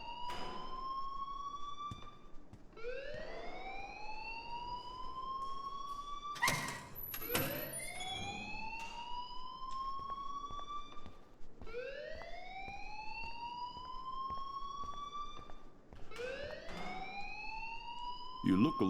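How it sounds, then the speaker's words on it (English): A wailing alarm in the video game Life Is Strange, rising siren-like sweeps repeating about every four seconds, loud and steady with a brief door-like thud partway through. "please turn off that alarm since that's your job."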